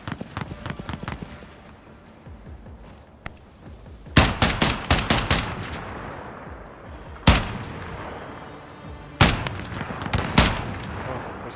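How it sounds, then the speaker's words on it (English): Gunfire in a multiplayer battle royale match: faint, scattered shots at first, then several loud, close bursts of rapid firing with short pauses between them. "Somebody over here shooting them."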